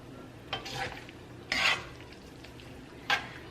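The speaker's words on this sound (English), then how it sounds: "I'm gonna give this a little stir." Mozzarella being stirred into a cream and Parmesan sauce in a pan, three short scraping swishes of the spoon over a low simmering sizzle, close and quiet.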